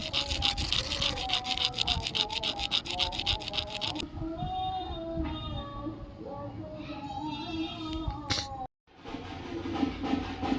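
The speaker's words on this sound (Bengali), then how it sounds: "ঘষে নেব প্রত্যেকটা বীজের ওই অংশটুকু আমরা ঘষে নেব" Lotus seeds being rubbed to scrape away their tips, a steady close-up scratchy rasping that runs throughout with a brief pause near the end, over low background noise.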